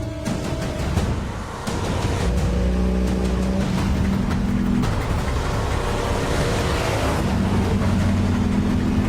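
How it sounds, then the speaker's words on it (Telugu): A vehicle pulls away with its engine droning loud and close, the pitch climbing through gear changes as it picks up speed, a steady roar holding throughout with no talking. "బండి బయలుదేరింది సార్"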